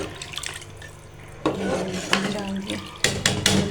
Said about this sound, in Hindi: अब हम डालने लगे हैं पानी